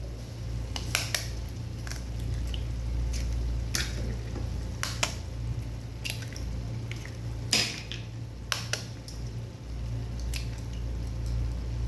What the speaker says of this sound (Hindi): जो मेरे पास अंडे थे तीनों वो इसके अंदर डाल दूँगी